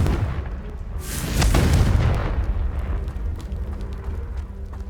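A Confringo blasting spell goes off in a video game, a loud booming explosion that swells to a peak and then rumbles away into a lingering crackling tail, with no talking.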